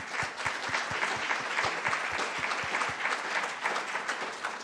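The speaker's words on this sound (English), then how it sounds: "So another round of applause" An audience at an art presentation on color breaks into a round of applause, a steady wash of many hands clapping, fairly faint and distant, with some low thumps, continuing throughout.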